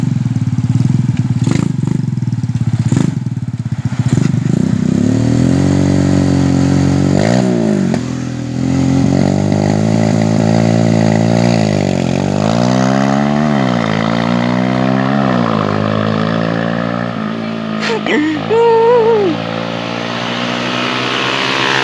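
Yamaha Jupiter 225cc motorcycle engine on a drag test run, loud and continuous, revving up and down through repeated rising and falling pitch sweeps with a sharp high rev burst near the end.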